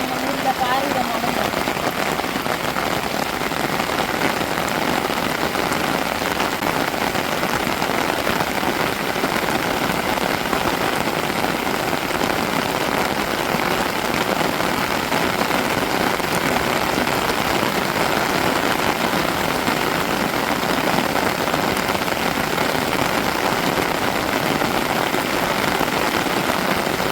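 Heavy rain pours down over a village, a dense, steady hiss of drops drumming on surfaces that holds constant and loud the whole time, with no voices over it.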